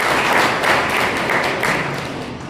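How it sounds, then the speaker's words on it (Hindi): An audience at a farmers' awareness camp applauds with a dense, continuous patter of many hands clapping, fairly loud and even, and no one speaks over it. "एक बार सभी तालियों से स्वागत करें।"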